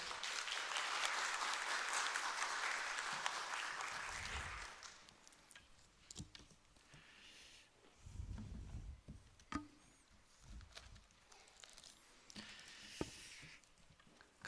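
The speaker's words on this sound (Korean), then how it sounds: "우리 박수로 맞이할까요?" A church congregation on Easter morning applauds to welcome a pastor, a soft, distant wash of clapping for about four seconds that then gives way to quiet room noise with scattered small thumps and rustles.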